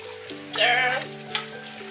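Jollof rice being stirred in a pot, a steady close sizzle and fry that swells briefly with scraping from the stirring, then settles back under a low background hum.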